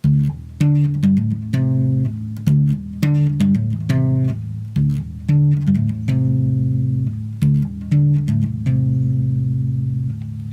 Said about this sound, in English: I'll play it slowed down for you, but it will sound like this.